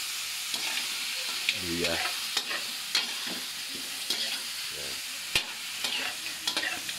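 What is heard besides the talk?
sautéing chicken with bird's eye chili, garlic and ginger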